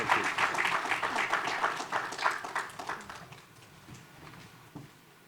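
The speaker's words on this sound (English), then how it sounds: "Please give a round of applause to Dr. Peter Sands." Audience members at a health financing forum clap for a panel guest, a loose rhythm of individual claps that thins out and fades to scattered taps.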